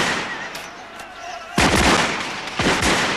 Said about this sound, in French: Arrêtez les tirs! Cessez le feu!